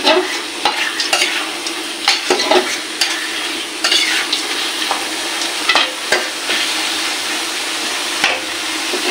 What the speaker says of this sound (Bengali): আর একটু হালকা জল দিয়ে দেবো, একটু দিয়ে এগুলো নাড়াচাড়া দিয়ে নেবো।